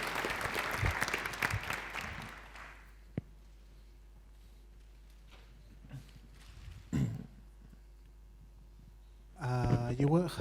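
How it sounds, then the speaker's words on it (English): Audience applause at a security conference talk, a burst of clapping at the start that fades out, followed by a quiet room with a few stray noises and a short clap, then a louder voice near the end. "So give him a round of applause for that."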